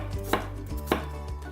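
Knife chopping potatoes on a cutting board for potato leek soup: three crisp, evenly spaced chops close by, with a low steady hum underneath and no voices.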